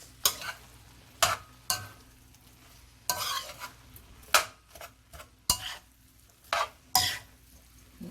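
Jamaican-style coconut curry mixture being stirred in a pot, repeated sharp scrapes and clinks of a spoon against the metal in irregular bursts over a faint low simmer, close up and without talk.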